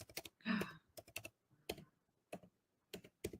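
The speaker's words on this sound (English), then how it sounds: "I'm going to type it on the comments." Quick bursts of typing on a computer keyboard, clustered key clicks in short runs separated by pauses, close and fairly quiet in a silent room.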